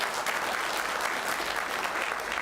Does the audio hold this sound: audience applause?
yes